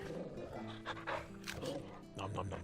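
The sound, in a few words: dog barking in the video game Final Fantasy XVI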